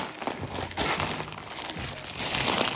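Crinkling plastic packaging being pulled and unwrapped from a tuned motorcycle expansion-chamber exhaust for a Yamaha Jog scooter, a close, continuous rustle and crunch with no talk.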